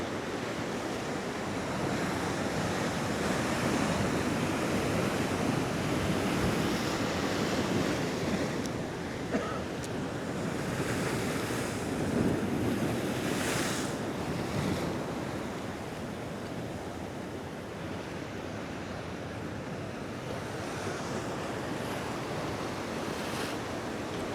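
Sea waves wash steadily onto the shore at Costa de la Calma, Mallorca, a continuous broad surf roar with gentle swells in loudness and some wind buffeting the microphone.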